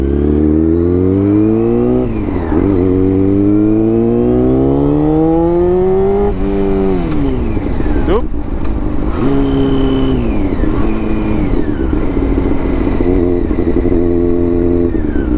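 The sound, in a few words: ATV engine revving while riding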